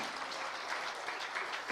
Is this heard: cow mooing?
no